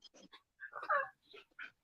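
A dog indoors whimpers and pants in short bursts, small whines and breathy huffs with brief gaps between them, close but fairly quiet, as if eager to be let outside.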